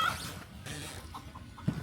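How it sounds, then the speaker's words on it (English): Faint clucking from a chicken or two, soft and somewhat distant over a noisy outdoor background. "I have at least 2 chickens out here waiting on me."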